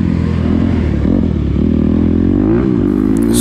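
Motocross motorcycle engine revving loudly and continuously up close, pitch rising and dipping as the throttle is worked, with clattering over rough ground.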